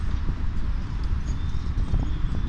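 Horse hooves clip-clopping in a continuous, fairly loud low-pitched patter, a group of horses on the move with a dusty, rumbling backdrop and no talk.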